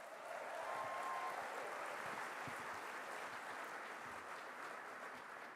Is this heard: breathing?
no